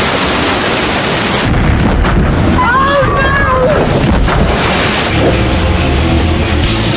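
A drag racing boat roars at about 240 miles per hour, shaking, its engine blasting amid heavy wind buffeting and rushing water.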